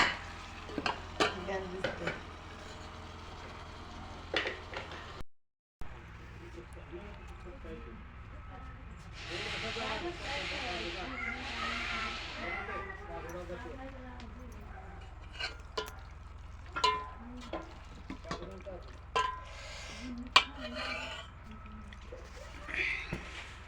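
Mutton curry is stirred in a pot over a wood-fired stove, with scraping and clinking of a utensil, soft liquid bubbling and sizzling, and a person speaking at intervals.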